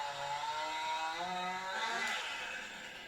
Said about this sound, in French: Bon, de toute façon, c'est qu'une tronçonneuse.